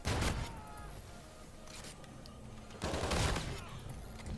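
Bursts of automatic gunfire from a Call of Duty match, a loud rattling volley at the start and another dense burst near the end, with quieter scattered shots between.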